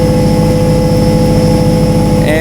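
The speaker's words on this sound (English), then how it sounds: "I'll just bring the throttle up" A car engine on a tuning setup with closed-loop knock control runs loud and steady at light throttle, its pitch beginning to rise right at the end as the throttle is brought up.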